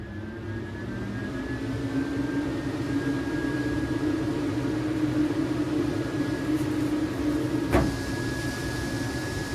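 MaxxFan Deluxe roof vent fan in a camper running at full 100% speed, a steady loud whooshing hum with a constant whine, continuous and close throughout.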